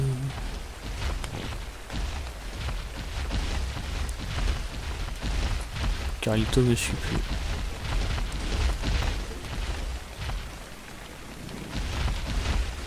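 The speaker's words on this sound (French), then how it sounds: "Il pleut, ah ouais. Il pleut." Rain falling in the survival game ARK, a steady hiss of downpour with low rumbling beneath, while a voice speaks briefly over it.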